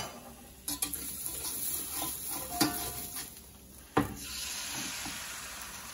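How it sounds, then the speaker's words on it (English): Beaten eggs sizzling in olive oil in a 15-inch Lodge carbon steel paella skillet, a steady close hiss of frying with a few sharp clicks and scrapes of a utensil against the pan. "You guys hear that sizzle?"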